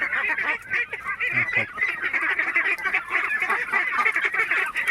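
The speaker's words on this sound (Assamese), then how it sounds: "এইবিলাক লোকেল পাতি হাঁহ" A dense flock of local domestic ducks quacking and honking continuously, loud and close, many calls overlapping with no pause and no voices.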